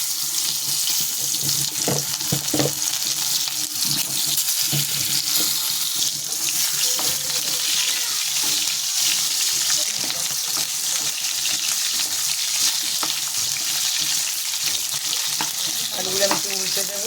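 Potatoes frying in oil with whole cumin in a wok, a dense steady sizzle with a few scraping stirs early on and occasional soft clinks, close and constant throughout.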